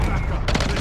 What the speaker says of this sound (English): I got his ass with my proximity mine!